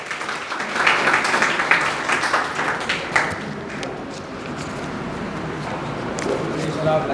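Students in a coaching-class hall clap for a selected NEET 2022 candidate, a dense burst of applause that is loudest early and then settles into a softer, continuing patter while a voice talks over it.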